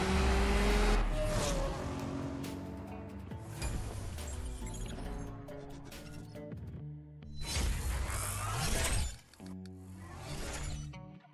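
Drag race car in the CSR2 game launching and accelerating through gears with a nitrous boost, a loud engine note climbing and shifting, with clinks and whooshes and a sharp surge near the end.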